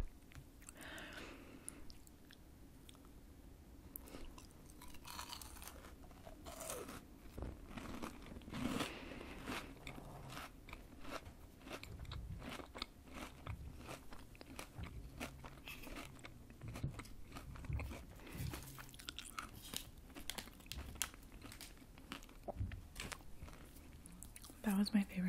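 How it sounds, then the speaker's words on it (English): Crunchy snack from a Munchpak box being chewed with the mouth open right at the microphone, a dense run of crisp bites and crackly crunches that goes on without pause, with soft whispering and faint wrapper crinkles. "I normally don't chew with my mouth open, by the way."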